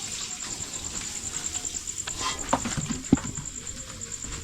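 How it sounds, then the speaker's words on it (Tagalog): Rain falls steadily at night in the Philippines, a soft continuous patter with a few sharper drips and taps close by. "yung ulan."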